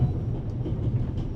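Low, steady rumble inside a moving train carriage in The Raven Remastered game; a continuous close droning roll with slight rhythmic bumps, no speech.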